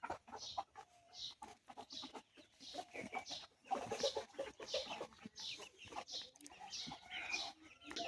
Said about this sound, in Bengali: এই যে মোরগটা ঘরে এসে শুধু ওদের ডিস্টার্ব করে।